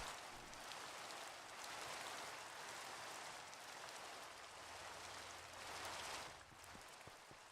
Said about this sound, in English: But why is the fake rain so loud?